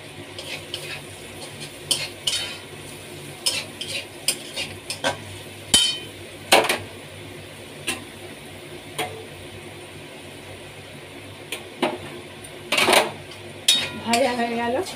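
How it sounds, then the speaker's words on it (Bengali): Onions and carrots stir-fried in a pan for fried rice, with a soft background sizzle broken by repeated sharp clinks and scrapes of a utensil against the pan, some loud, spaced irregularly. "এর মধ্যে আমি পেঁয়াজ দিয়েছি, আর গাজরগুলো যাতে খুব সুন্দর করে ভাজা হয় সেদিকটা দেখতে হবে।"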